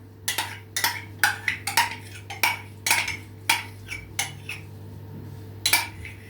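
A whisk beats sour cream into whipped eggs in a bowl for a layered cake batter, ringing with sharp, irregular clinks against the bowl's sides, about a dozen close strikes with brief pauses between them and no voices.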